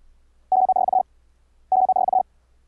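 Morse code CW tone sent at 100 words per minute, two short dense bursts of rapid keyed beeps separated by a pause, clear and alone against a low hum.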